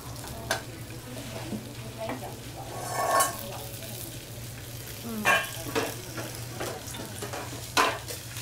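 Bánh khọt frying at a street food stall fill the space with a steady sizzle, broken by intermittent scraping and clinking of metal utensils against the pan, over a low background hum.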